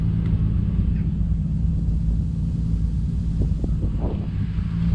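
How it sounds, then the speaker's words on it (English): A Toyota Supra engine left idling to warm up gives a steady, deep rumble that holds evenly throughout, close and alone with no voices. "I mean, just listen to her purr."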